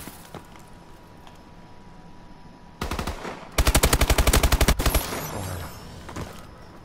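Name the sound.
gunfire from Call of Duty Advanced Warfare video game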